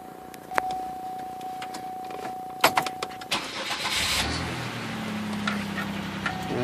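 A 2005 Chevy Impala with a newly replaced starter cranks briefly with a burst of noise, then catches and settles into a steady low idle, after a few light clicks and taps.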